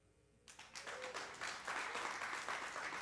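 After a quiet first half-second, audience applause swells up and holds as a steady broadband patter of many hands, fairly soft overall.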